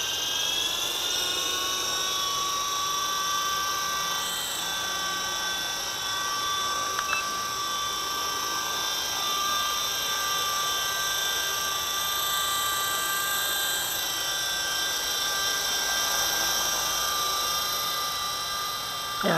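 A v913 toy RC helicopter with UV LED glow blades and a fiber optics body hovers nearby, its small motor and rotor giving a continuous, even, high-pitched whine that never breaks.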